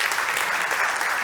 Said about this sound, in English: Big applause to Giuseppe.